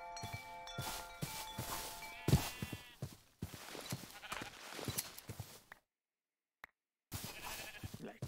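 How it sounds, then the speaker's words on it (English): Sheep bleating in the Minecraft modpack RLCraft, several animal calls over clopping footsteps and game noise, broken by a brief silent gap before the sounds resume. "Like, really a lot of sheep."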